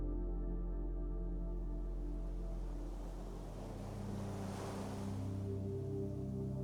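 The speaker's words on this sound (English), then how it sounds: "hear the soft white noise sound of rolling ocean waves" Soft rolling ocean waves form a continuous low, humming wash that gently swells and recedes, with one broader surge building midway, heard alone and fairly quiet.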